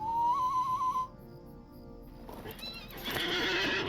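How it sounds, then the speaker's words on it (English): A horse in the video game Lord of the Rings Online whinnies loudly for about a second, then a pause before hooves clip-clop and a soft whooshing game-like rustle picks up. "I can get on a horse."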